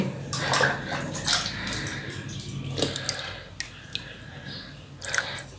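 Submersible-pump water splashes and gushes steadily into a fighter fish tank, a busy wet pouring sound with small drips and sloshes, close by and fairly loud.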